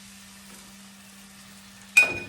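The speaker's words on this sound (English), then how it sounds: "is a 1/4 cup, quarter-ish cup of white wine to deglaze" White wine hits a hot pan to deglaze it, bursting into a sudden loud sizzle after a quiet hum, then hissing and crackling as it settles.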